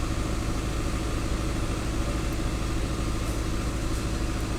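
A fire engine idling at the scene of a pub fire at the Tradesmen's Arms in Stokenham, a steady low rumbling drone held evenly throughout, moderately quiet with no voices.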